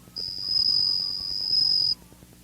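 A bell cricket, an autumn insect found on stones or soil by a sandy riverbank, gives a single clear, high ringing trill lasting nearly two seconds, heard alone against a quiet background.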